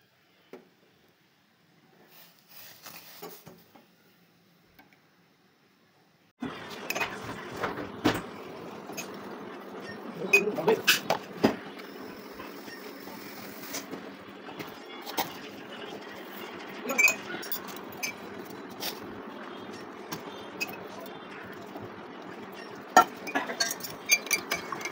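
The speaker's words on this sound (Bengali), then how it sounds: "তো এখানে পানি ফুটছে আর এদিকে আমি চা পাতাও দিয়ে দিলাম, দিয়ে একটু নাড়াচাড়া করে নেব।" Tea being made in a pot, with water boiling and tea leaves added and stirred: a quiet, steady low hiss carries faint scattered clinks of a utensil against metal for about twenty seconds.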